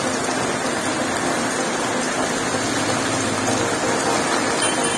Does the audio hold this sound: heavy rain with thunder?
yes